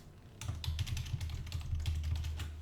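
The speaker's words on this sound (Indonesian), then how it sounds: "Nah, ini kan ngetik nih." Fingers type on a computer keyboard in a fast, steady patter of close clicks, with no voices over them.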